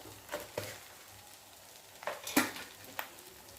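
Spices for a Marathi curry frying in oil in a pan, a soft sizzle with a few sharp clinks and scrapes of stirring scattered through, close and fairly quiet with no talking.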